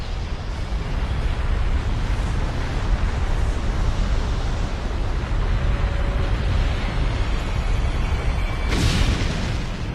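Supervolcano eruption explosion effect: a continuous, heavy, roaring rumble sustained throughout, with a brief brighter surge near the end.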